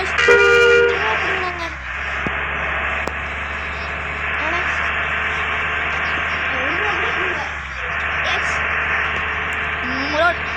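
Repeated car horn toots over a constant engine drone and static-like hiss, with electronic game-style tones and occasional voices.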